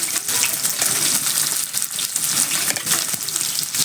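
Chopped onion hits hot oil in a kadai with bay leaf, dried red chilli and cumin, giving a bright, crackling sizzle with bursts of spattering that carries on steadily, close by, with no talking.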